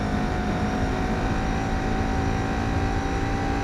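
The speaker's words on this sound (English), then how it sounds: "you're listening to it, sounds like a 1970s British Leyland car on a winter morning" A car engine in the Gran Turismo 4 racing game gives a loud, constant droning hum that never lets up from start to finish.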